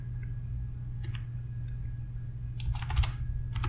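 Computer keyboard typing while entering a date value in a spreadsheet-style data tool: a few scattered keystrokes early on, then a quick cluster of clicks near the end over a steady low hum.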